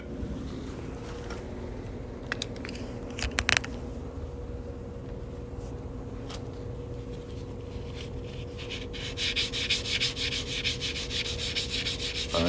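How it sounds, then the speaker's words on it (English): Sandpaper rubs steadily against the cut edge of a quarter-ounce gold coin ring, a soft continuous scratching with a few sharp clicks and faster strokes toward the end. Close by, with no talking. "I am gonna sand this cut edge just a little bit."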